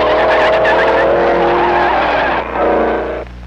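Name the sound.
1930s race cars cornering, tires skidding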